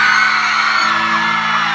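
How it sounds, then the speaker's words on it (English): Large concert crowd in an Osaka arena at a pop-rock show screaming and whooping in a loud, sustained, dense roar of many high voices, close and continuous throughout. "Now, Osaka, can you scream?"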